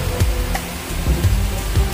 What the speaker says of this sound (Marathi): आणि सोबतच निखळ पाण्याचा वाहणारा हा झरा।